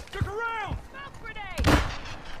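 A sniper shot in Call of Duty Modern Warfare 2 multiplayer, one loud, sharp gunshot blast with a short tail, after excited voices shouting over the game.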